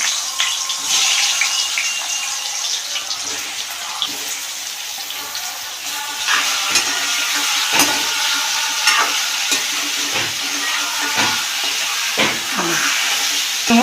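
Bottle gourd pieces fry in oil with turmeric and salt, a strong continuous hiss and sizzle punctuated by spatula scrapes and pops, close and loud throughout with no talking.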